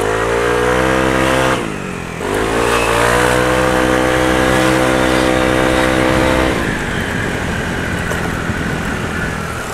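A Yamaha Aerox scooter upgraded from a 155cc to a 195cc engine revs loudly and close, climbing in pitch, dipping briefly, then rising again before settling into a rougher, steady drone.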